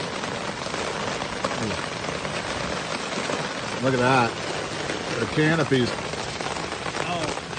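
Rain falls in the woods, pattering steadily on the leaf canopy and the surface below. The soft, even hiss continues under a few short spoken remarks from a person outdoors.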